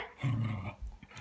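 A lurcher dog gives a low, rumbling growl that holds for about half a second, then a shorter grumble follows. The growl is fairly close and moderately loud, with faint household background noise and no talking.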